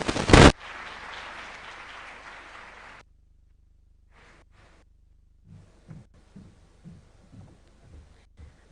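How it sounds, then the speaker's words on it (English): Applause from a summit audience after a presidential address at the Africa Forward Summit: a sharp burst, then about two and a half seconds of steady, dense clapping that cuts off abruptly, followed by near silence with a few faint scattered sounds. "Another big round of applause for His Excellency"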